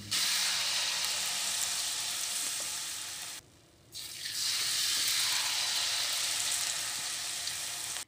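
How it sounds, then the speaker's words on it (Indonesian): Battered peanut and dried shrimp fritters fry in hot oil, giving a loud, steady sizzle. The sizzle drops away briefly partway through and then returns at full strength, with no voices over it. "Jadi makanya di setiap goreng itu harus selalu diaduk-aduk terus untuk si adonan basahnya ini."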